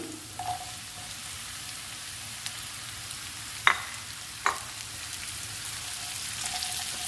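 Beetroot fries in oil in a pan, a soft steady sizzle broken by occasional scraping stirs and two sharper clinks of a utensil against the pan.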